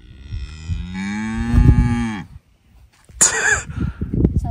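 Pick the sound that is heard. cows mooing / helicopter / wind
cows mooing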